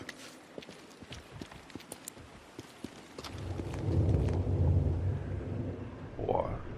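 Low rolling thunder in the open world of the video game Days Gone, swelling into a heavy, sustained rumble over the latter half after sparse clicking sounds, fairly loud and close.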